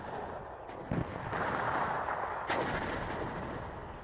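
Artillery fire in the military strategy game WARNO: heavy booming blasts land in bursts, several sharp reports around a second and two and a half seconds in, over a constant roar of battle.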